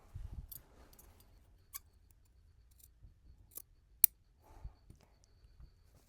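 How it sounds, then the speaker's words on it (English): Sharp scissors snip fabric while clipping into a seam allowance at a sewing table: several crisp, separate cuts spaced irregularly, close and fairly quiet against near silence. "I'm going to clip along this mark, ending at the very end point of my seam"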